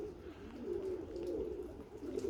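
Budapest pigeons coo softly and continuously at a pigeon feeder, a low, steady murmur with a faint background hiss.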